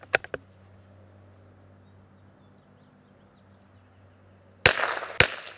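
A Tikka T1x .22LR rifle fires match ammunition at a target range. Two close, sharp cracks come at the start, then a quiet stretch, then two more loud shots near the end with some echo.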